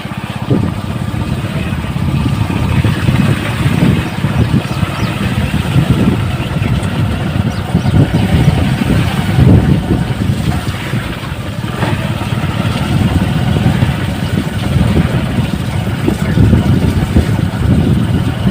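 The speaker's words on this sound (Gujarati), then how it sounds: "હવે અહીંયા બાઇક ઊભું રાખશે" A motorcycle engine idles steadily and close by in rainy rural farmland at night, a continuous low rumble running throughout with no voices.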